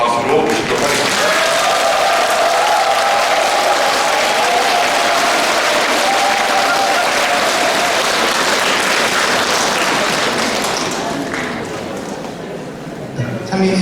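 An audience at a Lenten lecture in a parish gives a priest loud, sustained applause lasting over ten seconds, then tapering off near the end.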